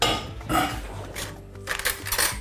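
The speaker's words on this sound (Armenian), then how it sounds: "Վերցնում ենք պատառաքաղ և այսպես քանդում ենք գնդերը քուսքուսի" A metal fork breaks up clumps of cooked couscous in a bowl, giving several close, light clinks and scrapes against the dish with short pauses between strokes.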